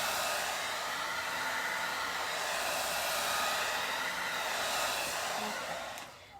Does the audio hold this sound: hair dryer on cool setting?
yes